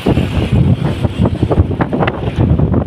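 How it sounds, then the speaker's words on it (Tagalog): Strong super typhoon wind in Lemery, Batangas, Philippines, buffets the microphone in continuous gusty roars, with rumbling low-end bursts swelling and easing throughout. "Ah, hangin na naman. Nag-umpisa na naman."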